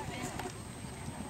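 A horse gallops on a cross-country course, its hoofbeats a quick, steady drumming that stays fairly distant under a broad wash of outdoor noise, while people talk over it.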